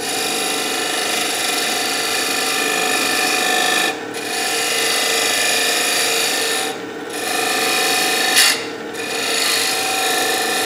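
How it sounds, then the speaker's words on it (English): A wooden bowl spins on a lathe as the turning tool scrapes with a steady, close rasping and whirring, broken by a few brief gaps and one sharp catch near the end, with no talking. "That was for your benefit, in case you wonder what that would sound like, a catch."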